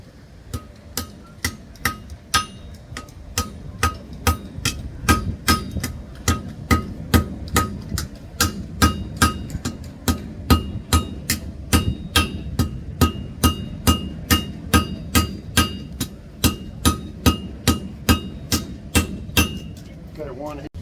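A hammer striking in a flint demonstration at a gunmakers fair, giving sharp, close metallic clinks repeated at a quick, fairly regular pace for about twenty seconds, with talk faint beneath.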